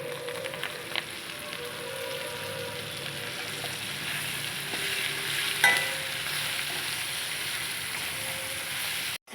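Chopped gongura leaves are tossed into a pan over low flame and stirred, producing a steady close sizzle with faint scraping and clinks, ending abruptly.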